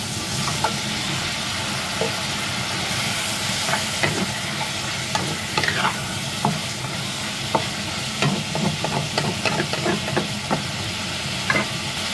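Chicken feet with tomato stir-frying in a pan make a steady, loud sizzle for the whole stretch, with scraping and clinking from stirring at irregular moments and no voices.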